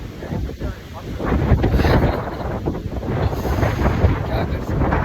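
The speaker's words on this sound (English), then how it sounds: "Because of the wind I can't speak properly" Strong outdoor wind buffets and roars straight into the microphone, a loud continuous rumble with gusting surges across the whole stretch as the weather turns.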